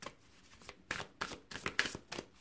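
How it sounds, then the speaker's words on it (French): Tarot cards are shuffled and drawn by hand, a series of crisp riffling and slapping bursts in an uneven rhythm, close and fairly quiet. "on va tirer 3 cartes"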